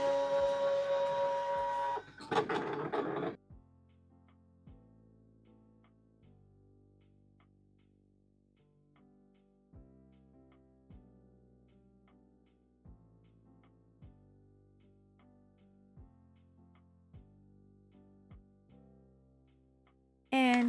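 A fabric cutting machine slices a paper sewing pattern for a petite dog bandana, its motor whirring in stepped, rhythmic tones that shift pitch as the blade moves, after a brief noisy clatter at the start.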